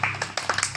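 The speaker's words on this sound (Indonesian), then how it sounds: "Udah, ya, tepuk tangan buat Obi." Children in a school athletics class clap hands for a classmate, a short scatter of uneven claps, close by and fairly faint, over a steady low hum.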